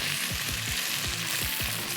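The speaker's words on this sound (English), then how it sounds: "That's sizzling. Make sure that everything is frying." Buckwheat sizzling in a hot frying pan, a dense steady crackle with soft rhythmic stirring scrapes underneath.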